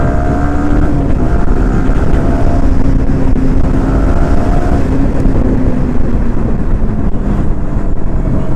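Yamaha R15 V4 motorcycle riding along an open road beside an NS 200, a steady engine drone with heavy wind buffeting the microphone throughout, continuous and loud with no talk.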